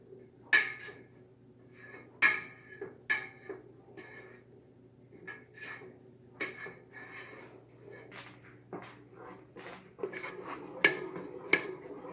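A spoon stirs peanut butter into a no-bake cookie mixture in a pot, giving scattered clinks and scrapes against the metal with soft squishy pauses between them, close by and quiet.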